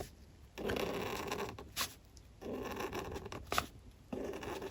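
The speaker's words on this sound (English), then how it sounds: "It's so smooth, and I love a squeaky pen sounds." Pen stroking across smooth tracing paper in a quiet room, with several scratchy, squeaky passes of about a second each separated by brief pauses and no talking.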